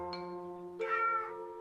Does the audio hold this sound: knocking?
no